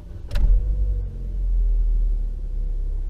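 An Opel Corsa 1.4 Enjoy with automatic transmission starts up: a sharp click, then a brief crank, then a low, steady engine rumble that settles into a close, even idle.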